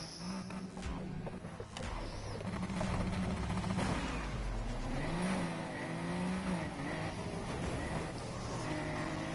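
Racing game cars including a BMW, a Mustang and a Porsche roar continuously as engines rev and shift. A steady, loud drone rises and falls in pitch with faint tire noise, and no voices are heard.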